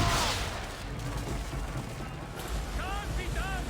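Musket volleys crack out in a Redcoat battle game, a dense rumbling wash of distant gunfire and booms under shouting voices, with a sharper close burst at the start.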